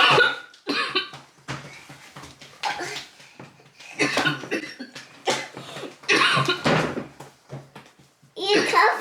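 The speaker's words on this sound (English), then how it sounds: "He's coughing." A small child coughs in several short, sharp bursts scattered across the moment, close by, between quiet pauses.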